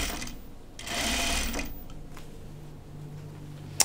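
A sewing machine stitches curved raglan seams on a top, a single burst of stitching about half a second long, fairly close, set in quiet room tone with a small click near the end.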